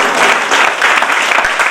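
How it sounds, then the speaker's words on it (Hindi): Audience applause for a former mayor who served twenty straight years, at a public event in Darbhanga; dense, steady clapping fills the whole short stretch, loud and close. "उनके लिए तालियां बजाए।"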